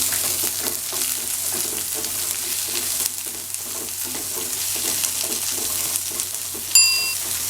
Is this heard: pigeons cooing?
no